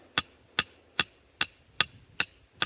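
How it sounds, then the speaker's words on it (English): A hammer strikes a hand-forged tool in seven sharp, evenly spaced metallic blows about every 0.4 seconds, each a loud ringing crack with a short decay and no talking. "Swing with this hand, which is my hammer hand."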